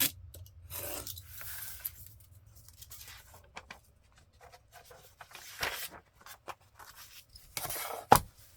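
Scissors snip paper while a junk journal is trimmed, sparse scattered cuts and rustles sitting quietly over faint background hum, with a sharper clack near the end.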